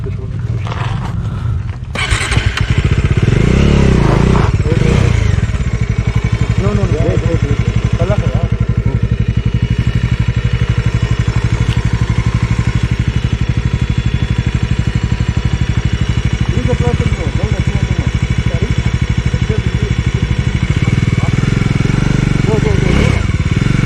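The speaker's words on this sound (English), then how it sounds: "Shift the gear and just give it accelerator." A Bajaj Dominar motorcycle engine runs on an off-road hill track in the Kolli Hills, Tamil Nadu, a steady loud close-up rumble that carries through the clip while people talk over it.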